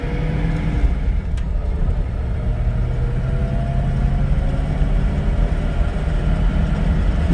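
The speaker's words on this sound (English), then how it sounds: "You hear those dual fours open?" Hemi Coronet R/T convertible with a four-speed and dual four-barrel carburetors pulling hard on the road, a deep, steady engine rumble mixed with wind noise throughout.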